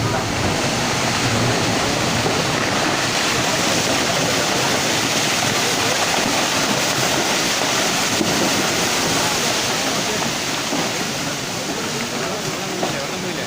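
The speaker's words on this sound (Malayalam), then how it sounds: "വെള്ളം വരുന്നേ ഉള്ളൂ ഇതാ മേലോട്ട് വരുന്നേ ഉള്ളൂ" Loud, continuous roar of rushing floodwater from a landslide, a dense broadband surge that never lets up, with voices faintly audible beneath it.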